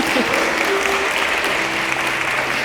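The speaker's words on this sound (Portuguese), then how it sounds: "dá uma salva de palmas de vencedor, de quem superou muita coisa" Audience at a youth church gathering bursts into steady, dense applause throughout, broad and even with no pauses.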